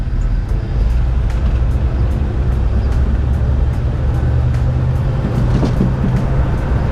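Chevrolet El Camino driving with no windshield installed: steady loud low road and engine rumble mixed with heavy wind buffeting throughout, continuous and close, with no talk.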